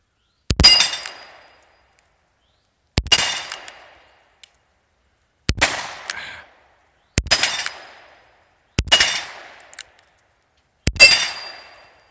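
.44 Magnum revolver fired one-handed outdoors, six loud sharp reports spaced about two seconds apart, each with a quick decaying echo.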